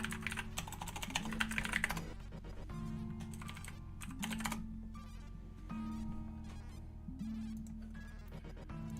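Rapid clicking of a computer keyboard as someone types, dense bursts of keystrokes at first, then sparser taps over a faint steady hum, close and fairly quiet.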